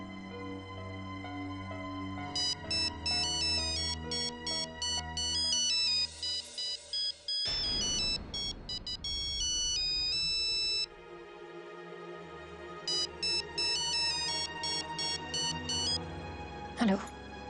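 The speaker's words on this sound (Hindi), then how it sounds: "हेलो विकी, तुझे कहा है ना बार बार फोन मत कर" A mobile phone ringtone plays as a repeated melodic beeping pattern in short bursts, with background music and a loud noisy stretch in the middle of the ringing.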